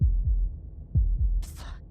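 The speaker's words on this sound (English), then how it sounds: "That was the sound of a heartbeat," A low, heavy heartbeat from the video game Slay the Princess throbs in two close double thumps, loud and alone, before a brief airy swish rises over the fading pulse.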